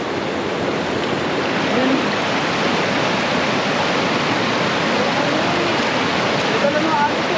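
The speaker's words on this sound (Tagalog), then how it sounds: "Ito na mga agos eh." A river current rushes steadily during a fishing outing. The broad, continuous wash of water sounds close and fairly loud, with people talking briefly over it.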